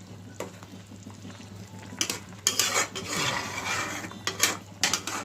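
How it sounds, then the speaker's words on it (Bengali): Fish fry in a pan with spices, a steady sizzle broken by scraping and clinking of a spatula stirring against the metal, close and fairly loud. "তো মশলার সাথে আমি ভালো করে মাছগুলো একটু ভেজে নেব।"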